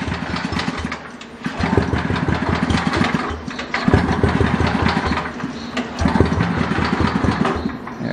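A Power Stroke gas pressure washer engine pulls over and catches, then runs with a loud, steady mid-pitched putter close by, its pace surging slightly in places.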